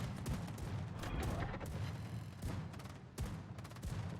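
Naval guns booming in the World of Warships game, heavy broadband blasts repeating every second or so over continuous low battle rumble, loud and close.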